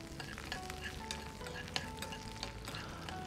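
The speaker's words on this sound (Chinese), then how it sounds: "油热后，先下入姜蒜，煸炒出香味" Ginger and garlic sizzle and crackle in hot oil, a mix of lard and vegetable oil, while a spatula tosses them with scraping stirs and small clicks, quietly and close up.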